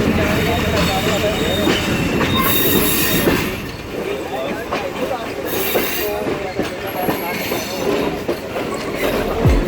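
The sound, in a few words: Sir Syed Express passenger train at a station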